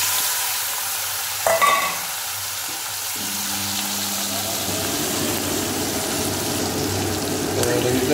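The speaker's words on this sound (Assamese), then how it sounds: "তেল আমাৰ গৰম হৈ গল আৰু আমি ইয়াতে শুকান মাছখিনি দি দিম" Dried fish drops into hot oil in a pan with onions for a chutney, bringing a brief clatter followed by a loud, steady, close sizzle with occasional stirring scrapes.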